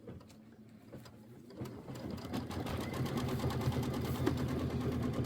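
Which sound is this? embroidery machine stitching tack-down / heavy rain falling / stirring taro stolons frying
embroidery machine stitching tack-down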